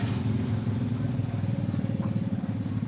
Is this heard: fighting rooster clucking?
no